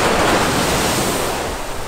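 Ocean waves wash up on a Kauai beach in a loud, close, continuous roar of surf that fills the whole stretch, with no talking.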